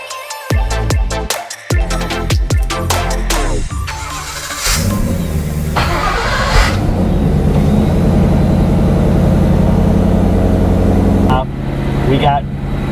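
A 1967 Ford Mustang Eleanor V8 cranks and starts up, settling into a loud, rumbling idle that runs steadily close by before dropping off near the end, with brief voices at the start.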